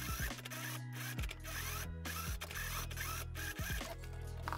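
A sewing machine stitching a sleeve hem at 5 millimetres, running in a steady, loud mechanical whir with brief stops and restarts, close and without talking.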